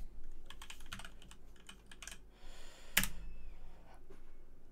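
Fingers typing a command on a computer keyboard, a run of quick irregular key clicks with one sharper, louder tap near the middle, close and alone with no voices.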